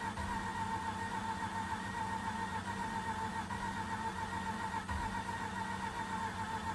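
A Mazda RX-8 rotary engine struggling to start, giving a steady, close droning hum at an even level throughout, with no clear catch or rev.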